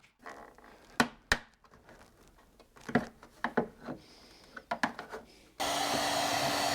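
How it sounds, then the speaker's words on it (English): A heat gun whirs on at the end, steady and close, after a run of sharp clicks and taps while work begins on a BMW F10 headlight, warming it section by section to soften the lens glue. "we're going to start warming it up piece by piece to try and remove the lens"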